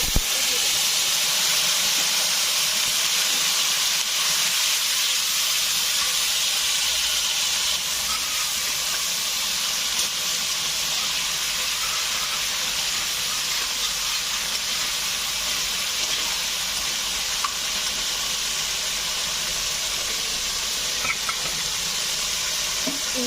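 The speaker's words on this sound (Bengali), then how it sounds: "পাঁচফোড়নটা আমার ভাজা হয়ে গেছে" Panch phoron spices sizzling in a hot frying pan, a loud, steady broadband hiss and crackle that runs unbroken throughout, close up, with only faint background sounds beneath it.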